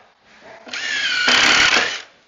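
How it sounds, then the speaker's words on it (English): A power drill drives a countersunk screw during a kitchen installation, starting with a short whir, then ramping into a loud, steady high-pitched whine with a brief harder grind as the screw seats, about one and a half seconds, alone. "do a countersink and screw it"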